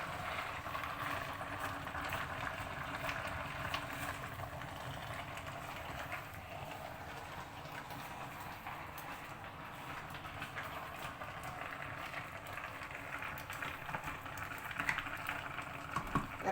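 Meat and chopped onions cook in a pot for kappa biryani, giving a steady bubbling, hissing simmer that stays even and continuous throughout with no voices.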